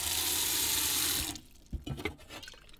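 A tap runs steadily into a sink as a cat's water bowl is refilled inside a camper van, then cuts off after about a second, leaving a few soft drips and clinks.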